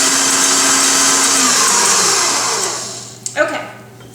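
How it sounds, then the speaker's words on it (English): An electric mixer beating reserved egg whites for a German chocolate cake, a loud steady motor whir that winds down and stops, followed by a few clunks of bowl or beaters. "we're gonna beat those egg whites that we reserved and fold them into"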